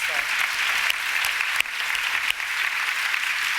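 Steady applause fills a luncheon room at a women's awards event, continuous clapping from a seated audience that holds at an even level throughout, with a few sharper claps standing out.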